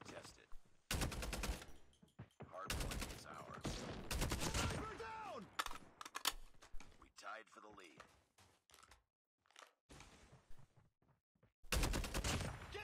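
Bursts of rapid gunfire from COD Mobile, several volleys spread across the stretch with short gaps, mixed with a player talking over the action.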